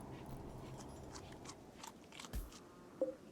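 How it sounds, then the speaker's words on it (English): Munching and crunching bites from the video game RimWorld, soft and faint, come in several irregular bursts with a couple of sharper crunches near the end. "All those munching noises"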